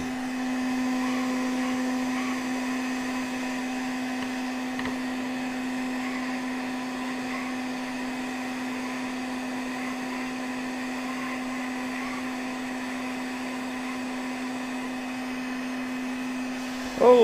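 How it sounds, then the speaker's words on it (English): A heat gun blows hot air over PVC pipe, giving a steady, continuous fan-like whine and hum for about seventeen seconds with a brief bump at the end. "Oh, my heat gun's trying to run away on me here."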